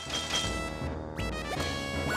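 Glass shattering in the video game Kingdoms Of The Dump: a sharp crash followed by bright tinkling shards and further clattering game effects, loud and up close with no voices.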